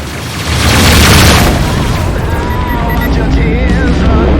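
A missile explosion in the space combat game Rebel Galaxy Outlaw erupts as a loud, deep boom that swells quickly and then lingers as a heavy rumbling roar.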